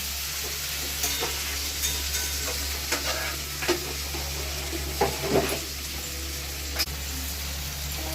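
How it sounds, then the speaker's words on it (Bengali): Constant crackling sizzle of spices frying in a pan for fish-head moong dal, with several sharp scraping stirs at irregular intervals. "আমার সব মশলা ভালো করে ভাজা ভাজা হয়ে গেছে"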